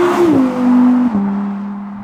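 A supercar engine hums at a steady low pitch while cruising at 30 to 40 mph, with a slight drop in tone as it shifts, heard from inside the cabin.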